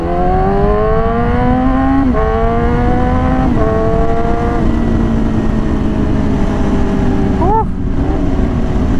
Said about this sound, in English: the official first ride on my full exhaust and fully modded and tuned Yamaha R6